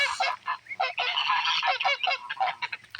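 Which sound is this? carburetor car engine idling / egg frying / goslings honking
goslings honking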